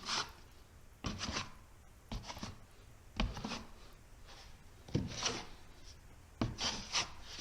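A trowel skims joint compound over drywall in repeated rough scraping strokes, each a short rasping swipe with brief pauses between, close and moderately loud.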